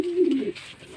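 A racing pigeon coos after flying home from a 50 km training release, a low, soft, rolling call close by for about half a second, followed by quieter faint bird murmurs.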